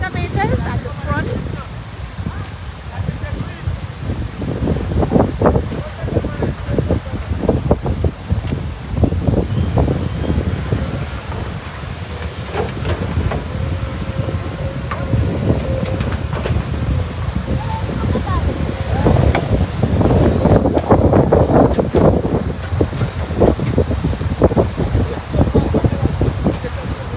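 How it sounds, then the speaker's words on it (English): Gusty wind blows across a beach beside a dark sea, a continuous rushing roar buffeting the microphone with rising and falling surges and no clear voices. "A little windy today, the sea is black and usually not like this."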